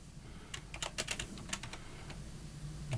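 Keys on a computer keyboard tapped in quick, uneven bursts, close and fairly soft, with brief pauses between clusters and no talking.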